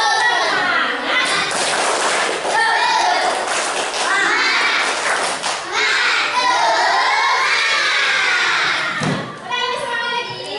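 Classroom of first-grade primary schoolchildren performing the tepuk semangat clapping chant, loud massed young voices shouting together with rhythmic claps and thumps, close and continuous.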